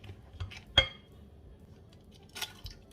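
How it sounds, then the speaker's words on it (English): A spoon knocks and clinks against a bowl while brown sugar is stirred, giving a few sharp separate taps with quiet gaps between them, close by and with no voices. "That is my brown sugar, and I'm just going to give it a stir and set it aside"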